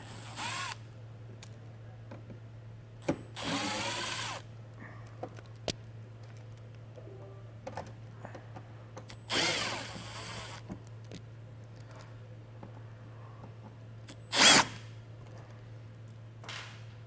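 Power drill backing out T25 star-bit screws in the fender well of a 2025 Volvo XC60 during a trailer hitch install, giving two or three short, loud whirring bursts over a steady hum, with a sharp tool clack near the end.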